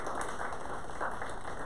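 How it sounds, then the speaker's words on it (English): Faint, steady applause from a small audience at a community action board meeting, welcoming new board members; the soft, even patter of many hands continues throughout without voices. "let's have a round of applause for these new members that we recognize"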